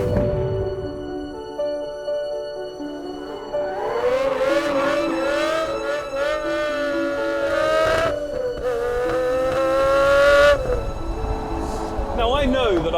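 A 2007 Pagani Zonda F sports car engine revs up and down in rising and falling sweeps, loud and close, with a voice speaking over it.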